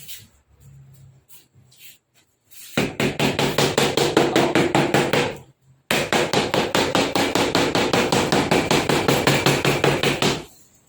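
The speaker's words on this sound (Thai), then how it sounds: "การตอกนะครับ เพื่อให้ แผ่นลามิเนตกับผิวไม้เนี่ยติดกันแนบสนิท" Fast, steady tapping of a hammer on a laminate sheet over wood, in two long runs separated by a brief pause.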